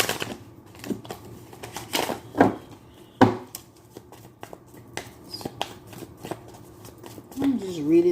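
Tarot cards are shuffled by hand, with crisp riffling and tapping bursts coming in irregular clusters close up, heard under a person talking.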